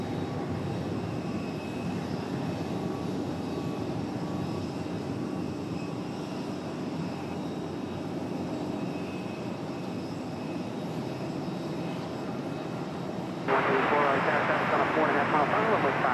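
A JetBlue airliner departs Raleigh Durham International Airport, its engine roar holding as a steady, distant rumble before swelling sharply louder near the end as the takeoff thrust builds.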